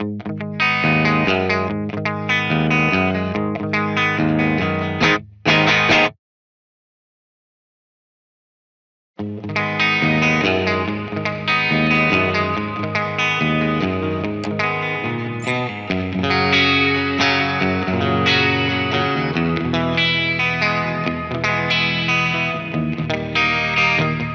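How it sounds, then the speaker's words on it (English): An electric guitar plays chords and single notes through a Joyo JF-20 Moist Reverb digital pedal into a Vox AC15C1 amp, with a washy, lingering tail and a short silent gap before it resumes. "The Moist Reverb is a digital reverb pedal with three core reverb sounds studio"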